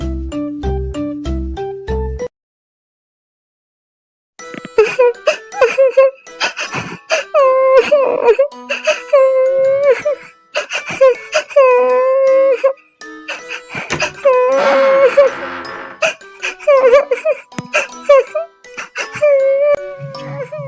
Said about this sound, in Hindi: जाके देखती हूँ ये कौन बच्ची रो रही है।